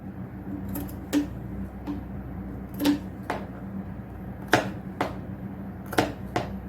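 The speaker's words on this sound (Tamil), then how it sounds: "அடுத்தது ஆங்காங்கே கட் கொடுக்கலாம்." Scissors snipping fabric in a tailoring class, a series of sharp, separate cuts spaced irregularly, close and fairly loud over a quiet room.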